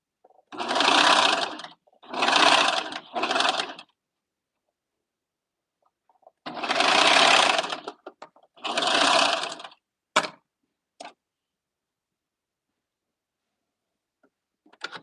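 A sewing machine stitches through fabric in loud bursts: three runs close together, a pause, then two more. A few sharp clicks follow before near silence.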